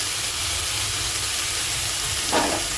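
Boiled potatoes frying in hot oil with ginger-garlic paste, Kashmiri chilli powder and garam masala, a steady broad sizzle and hiss throughout, with a brief louder crackle near the end.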